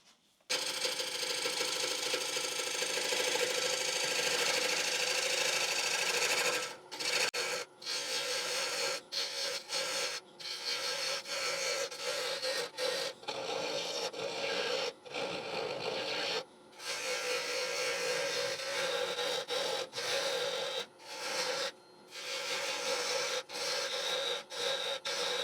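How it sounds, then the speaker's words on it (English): A wooden bowl being hollowed on a lathe, a continuous scraping, rasping cut of the tool against turning wood with brief pauses and short dips where the tool lifts off. "we'll start out hollowing the bowl"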